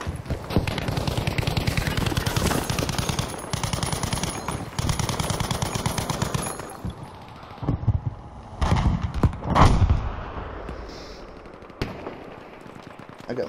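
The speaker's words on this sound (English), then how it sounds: "Laying down some suppressing fire with my AT" An AT rifle lays down suppressing fire in Battlefield 5, with rapid rhythmic volleys of loud gunfire followed by scattered heavier single shots and distant battle noise.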